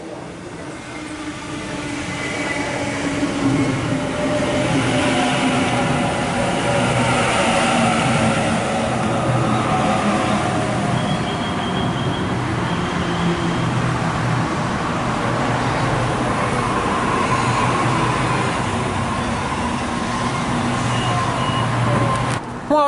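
Suburban passenger train set A63 pulling out of platform 2 at Asquith station, a steady loud rumble of wheels and motors building and holding throughout, with faint high whine above.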